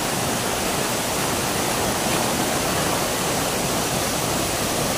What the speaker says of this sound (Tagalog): So napakagandang falls